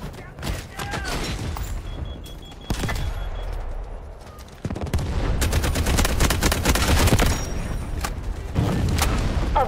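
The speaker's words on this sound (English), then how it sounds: "Incoming artillery." Rapid bursts of gunfire and heavy booming artillery impacts in the video game Delta Force, dense and loud, with brief in-game voice callouts mixed in.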